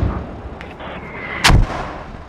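A single loud mortar round fires in the video game Squad. The boom is sharp and close, rising out of low steady background noise, with no speech.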